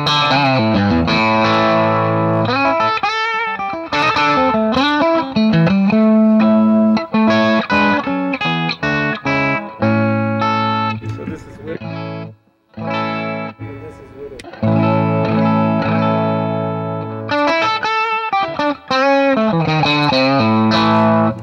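A loud, distorted electric guitar through an RC Booster pedal plays thick chords and riffs with a big boosted tone, briefly dropping out midway before crashing back in.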